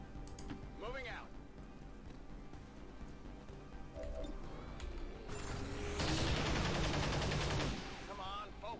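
Gunfire in the XCOM 2 video game, a run of rapid shots swelling into a loud sustained burst midway, layered over game ambience and talk.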